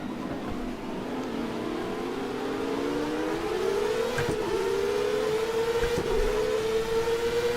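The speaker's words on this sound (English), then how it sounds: "with these engine sounds, I don't think you're going to mind" Racing car engines roar in Stock Car Extreme, with CART open-wheel cars lapping the historic Bologna circuit: a loud, sustained, steadily rising engine whine as the cars accelerate, punctuated by brief sharp bursts around gear changes, with no talk over it.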